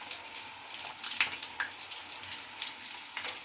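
Chili bajji fritters in batter frying in hot oil, a soft, steady crackle and sizzle with fine popping, heard close and fairly quiet with nothing else over it.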